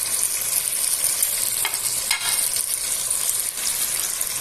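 Fried chicken legs sizzle loudly in roasted masala inside a dhaba-style karahi, a thick continuous hiss with faint scraping and stirring clatter as the pieces are mixed through.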